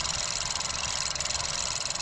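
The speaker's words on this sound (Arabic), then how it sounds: "طبعا هلا المحرك شغال" A Ford Focus 1.0 EcoBoost with turbo damage from low oil pressure idles steadily up close, a loud continuous drone with a fast even pulsing and no voices.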